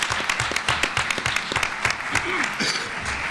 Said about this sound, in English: give a warm round of applause to Reverend Dr.